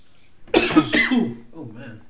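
Coughing fits from a person, several harsh bursts close to the microphone that trail off into quieter throat sounds.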